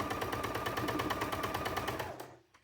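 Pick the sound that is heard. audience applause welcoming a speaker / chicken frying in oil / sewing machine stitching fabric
sewing machine stitching fabric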